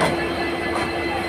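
A passenger train rolls steadily on the line between New Jalpaiguri and New Bongaigaon, with a continuous low rumble and rattle and faint wheel hiss throughout, no clear voices.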